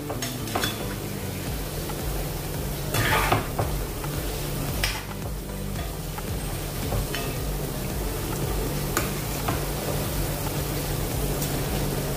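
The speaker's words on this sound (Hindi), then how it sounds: "ऐसे पलट पलट के इसको तलना है, एक समान तलेंगे" Layered namkeen snack dough frying in hot oil while a spoon turns the pieces, with a steady dense sizzle and a few brief clinks and scrapes breaking through.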